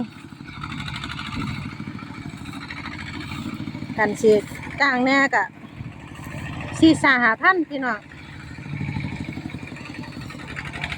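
A small modified walking tractor clears brush and scrub behind a house, its steady low engine chugging close by for the whole stretch while someone talks over it in two bursts.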